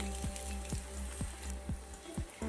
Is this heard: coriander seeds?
yes